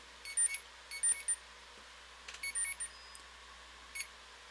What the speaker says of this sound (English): Methinks my alarm's a little late.